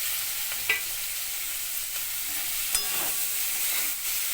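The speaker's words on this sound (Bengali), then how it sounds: "টমেটোটা দিয়ে একটু ভাজা করি" Steady sizzling of tomatoes frying in a pan for vegetarian macaroni, with occasional clinks and scrapes of stirring, close and continuous with no talking.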